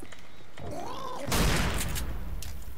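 Shotgun fire in Left 4 Dead 2 bursts out as a loud, booming blast partway through. Gritty noise follows the blast, with a short whining game sound just before it.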